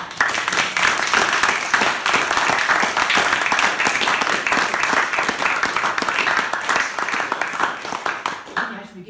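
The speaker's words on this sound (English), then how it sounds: "one final round of applause for Baroness" A Durham Union debating-society audience gives a final round of applause for Baroness Cox after a Q&A, loud and sustained clapping filling the room for about nine seconds before it stops abruptly at the end.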